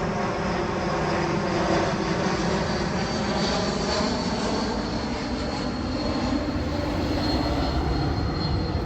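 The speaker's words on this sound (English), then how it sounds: "JetBlue coming in." A JetBlue jet airliner roars steadily overhead on its approach to land, a loud, continuous broadband engine rumble with a faint high whine, heard outdoors near a road with no talking.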